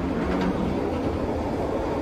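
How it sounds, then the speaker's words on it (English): Vancouver SkyTrain in motion, a continuous broadband rumble and hiss of the train running on its track, loud and steady with no voices. "Next we're gonna ride on the SkyTrain."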